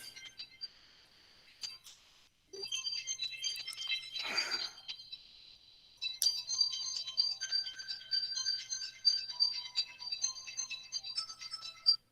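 A phone goes off with bright repeating electronic tones in short bursts, stopping briefly and then resuming for several seconds, close and fairly clear in an otherwise quiet room.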